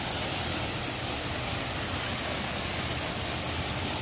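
High-pressure car washer spray machine blasting water onto the ground, a loud, continuous, broadband hiss that stays steady and close throughout.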